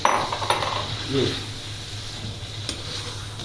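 Tomatoes go into a pan of chicken karahi with a clatter of utensils against cookware, a brief scrape near the start and a sharp knock later, close by over a steady low background hum.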